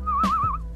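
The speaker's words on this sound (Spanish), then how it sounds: "¿Puedes silbar?" A cartoon baby whistles a clear, warbling tune with a wavering pitch, loud and close, sustained for most of the moment with a brief break near the end and no talking over it.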